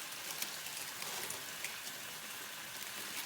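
Water boils in a pot for instant noodles, giving a faint, continuous bubbling hiss that stays even throughout with no talk.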